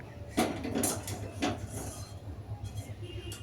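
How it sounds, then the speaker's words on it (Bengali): A wok of frying oil is lifted off a gas stove in a home kitchen, giving a few faint metallic clinks and scrapes against a quiet room hum, with no talking. "এখন এই যে তেলের কড়াইটা নামিয়ে দিচ্ছি"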